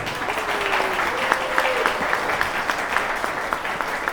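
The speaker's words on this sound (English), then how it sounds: "please give Ann a warm welcome with a huge round of applause" Audience members at a realtor training event give a round of applause, a moderately loud, sustained clapping from a room crowd with a few sharper individual claps standing out.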